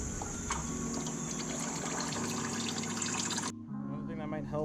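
Engine oil draining from the pan of a 2016 Subaru WRX into a container during an oil change, a steady close liquid pour and trickle that runs continuously throughout.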